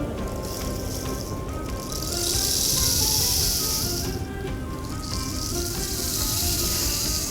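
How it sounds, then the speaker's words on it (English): Steady hiss of rain falling, swelling and easing in waves, with faint music playing underneath. "The sky darkened and thunder rumbled, and it began to rain."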